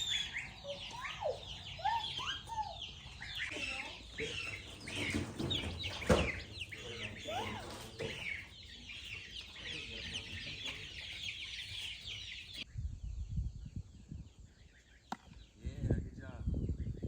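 Newly hatched chicks in a brooder cheep and peep continuously in a dense, overlapping chorus at close range, with low rumbling and a short stretch of quieter, sparser peeping near the end.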